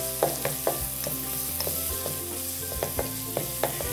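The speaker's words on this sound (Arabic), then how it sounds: "بعدها رايح ناخذ الملفوف تاعنا ونحطوه يتقلى مليح مع البصل" Cabbage frying with onions in a pan, a close steady sizzle punctuated by repeated sharp utensil scrapes and taps as it is stirred, with no voices.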